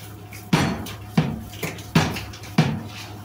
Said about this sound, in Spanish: Y terminamos de batir nuestra masa un buen ratito para que nos queden bien esponjositos